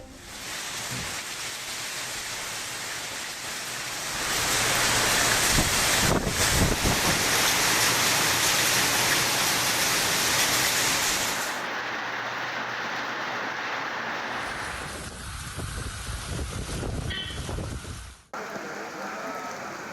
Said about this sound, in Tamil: மதுரையில் அண்ணா நகர் உள்ளிட்ட பல்வேறு இடங்களில் பலத்த சூறைக்காற்றுடன் கனமழை.